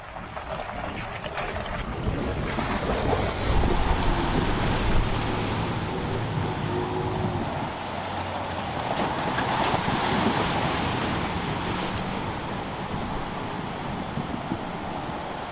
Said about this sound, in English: So how was that for your first pretty substantial Water crossing.